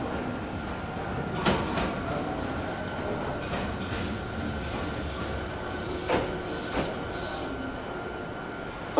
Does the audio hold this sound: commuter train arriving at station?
yes